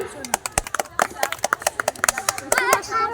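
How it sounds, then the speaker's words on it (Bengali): A small crowd claps at a children's sports prize-giving ceremony, with quick uneven hand claps rattling through the whole moment, close and fairly loud, while a voice calls out over them. "হাততালি, সবাই হাততালি"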